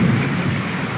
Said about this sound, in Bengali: মেঘ ডাকছে খুব,